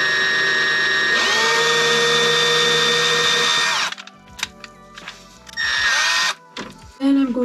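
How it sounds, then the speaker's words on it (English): A power drill with a 5/64 bit drills into clogged 3D printer filament in a hot end, whining steadily for a few seconds and then running again in a shorter burst after brief handling noises. "Use my drill with a 5/64 bit, make a indentation into the material about a centimeter deep, and then reverse the drill."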